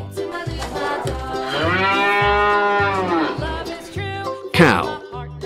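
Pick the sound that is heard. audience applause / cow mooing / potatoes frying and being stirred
cow mooing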